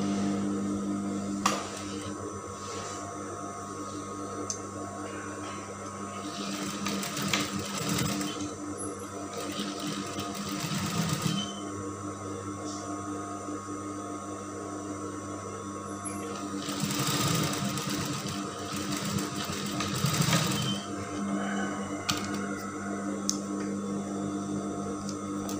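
A sewing machine stitches brocade fabric for a kebaya, its steady motor whir running in bursts with brief pauses over a constant background hum, no talking.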